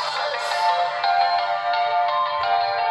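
Music plays through the small speaker of a Fire-Boltt Quantum smartwatch, a thin, tinny melody with steady rhythmic notes, alone and close by.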